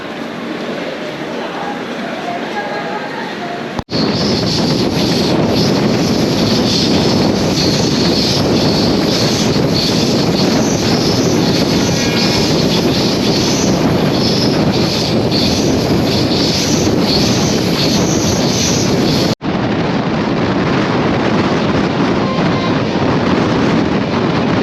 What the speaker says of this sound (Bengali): এখন ট্রেন এসে দাঁড়ালো গুয়াহাটিতে তার নির্দিষ্ট সময়ে সকাল 10টায়